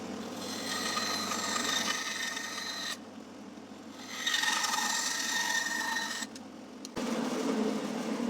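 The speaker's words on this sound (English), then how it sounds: "I'll cut these sides down a little bit now too while I'm at it, and then go and sand them a bit" Rasping, abrasive strokes on the wooden sides of a knife handle being shaped and sanded, close up in sustained passes broken by short pauses, with no talking.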